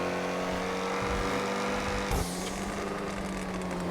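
Ocelot XA21 supercar in GTA Online, its engine droning steadily, then a sharp shift midway as the throttle lifts into a lower rumbling tone with faint crackles, loud and close with no talking.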